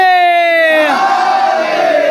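A large mourning congregation at a majlis in Bala Ganj, Lucknow, roars a unison chant answering the Nara-e-Haidar slogan, a loud sustained mass of voices that opens on one held pitch and then swells into a broad crowd roar.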